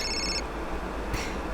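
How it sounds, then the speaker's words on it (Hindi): Telephone ringing in a scene from a Hindi-dubbed South Indian comedy film, two short electronic ring bursts separated by a pause over a steady low background hum. "फोन।"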